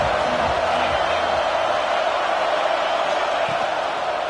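Football stadium crowd at a Tennessee versus Mississippi State college game, a dense, steady roar of cheering from a large crowd, loud and sustained throughout.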